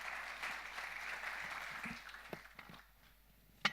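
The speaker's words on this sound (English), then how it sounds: "can we have a round of applause for the speakers?" Panel session audience applauding the speakers, a brief burst of clapping that fades out within a few seconds, moderately distant, followed by a single louder knock near the end.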